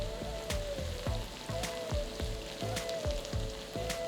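Thinly sliced shallots and mustard seeds fry in hot coconut oil, a steady close sizzle broken by sharp, rhythmic scraping and tossing strokes about every half second.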